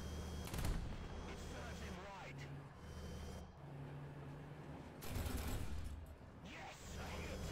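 Tank cannons fire in the War Thunder video game, with heavy booming blasts at the start and again midway, over constant engine rumble and mechanical clatter while players talk.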